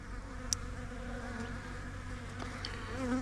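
Honey bees swarm and buzz steadily around an opened weak hive, a dense continuous drone close by with a few louder passes of individual bees.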